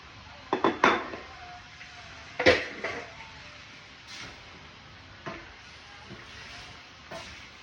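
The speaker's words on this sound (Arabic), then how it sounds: "خلاص شوحنا الكوسه شويه، ننزل بالطماطم" Zucchini and tomatoes being sautéed in a pan, heard as a few sharp clatters and scrapes of a utensil against cookware over a soft, low sizzle, with quieter stirring knocks spaced through the rest.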